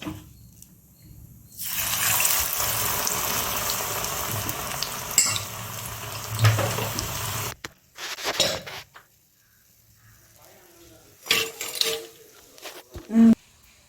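Millet and lentil vada batter hits hot oil in a pan with a burst of loud, steady sizzling that runs for several seconds, followed by scattered metallic clinks and stirring sounds.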